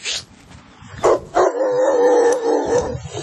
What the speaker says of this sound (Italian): Abbaia, su, su.